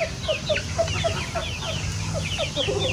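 Dong Tao chickens cluck repeatedly at close range in a busy chorus of short, overlapping calls over a low background rumble.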